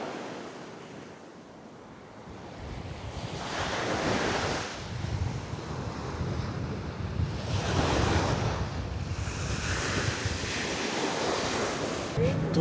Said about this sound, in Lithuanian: Va tokia ta Juodoji jūra.